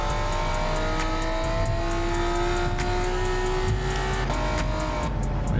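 A high-revving Honda VTEC engine in Gran Turismo 7, held in second gear at Laguna Seca, droning steadily at high RPM with rising pitch sweeps and gear changes, loud and continuous with no talk.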